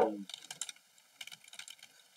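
Brief burst of typing on a new computer keyboard, close and moderately quiet: a quick run of crisp key clicks in two short clusters, following a short low vocal sound at the start.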